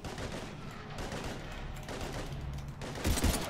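Bursts of gunfire ring out in a Mass Effect 3 firefight against husks, with rattling shots over a rough, noisy battle background.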